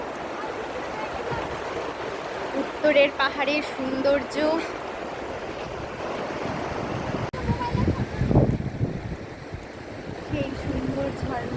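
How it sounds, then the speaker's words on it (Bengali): Water pours down a waterfall in the northern hills, a steady broadband rush with some wind that runs through the whole clip beneath people talking. "জলের শব্দ"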